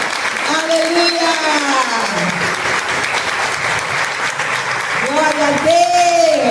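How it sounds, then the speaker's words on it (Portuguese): A church congregation applauds steadily at close range, continuous clapping lasting throughout while a voice sings or calls out over it. "Aplauda a palavra de Deus."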